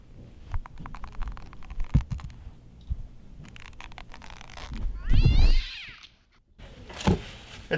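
A cat meows in a tense, eerie scene, a short rising-and-falling call near the middle, set against low thumping and scattered clicks with faint voices around it.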